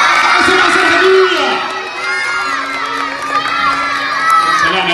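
A crowd of children at a magic show shouts and cheers loudly throughout, a burst of excited yelling easing slightly before rising again in a continuous noisy roar.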